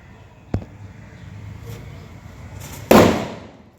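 Two sharp Diwali firecracker bangs, a small pop early on and a louder explosive crack near the end that rings out and fades, over quiet background.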